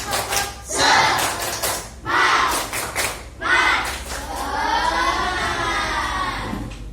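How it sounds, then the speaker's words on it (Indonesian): A classroom of children performs a rhythmic spirit clap: patterned groups of loud clapping bursts arrive in short sets, then young voices join in a shouted chant toward the end. "Tepuk semangat."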